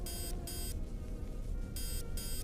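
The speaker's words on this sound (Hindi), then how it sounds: "अरे ये तो खतरे की आवाज है।" A shrill electronic alarm beeps in two quick pairs of bursts over a low rumbling background.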